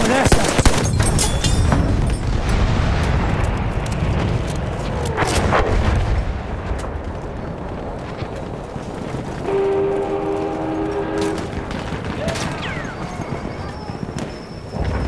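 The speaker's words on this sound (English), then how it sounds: "Machine gun over there!" Machine gun fire and explosions from a Battlefield 1 Conquest match on the Amiens map, with loud, dense bursts of shots and booms across the scene and a voice calling out partway through.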